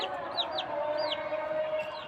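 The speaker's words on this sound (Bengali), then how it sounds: "আমাদের মুরগির বাচ্চাগুলো" Small chicks on a rooftop peep in quick, high, downward chirps, a few scattered calls heard faintly over a steady background hum.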